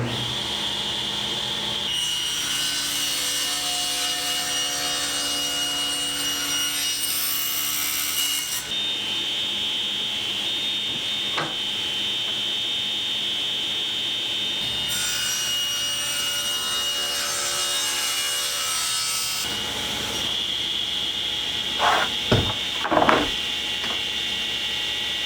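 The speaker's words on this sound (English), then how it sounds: "Back at the table saw, we can begin shaping." A table saw with a crosscut sled set at 22.5 degrees slices a wooden board, giving two long steady whining cuts with a quiet gap between them, then a few light knocks as the wood is handled.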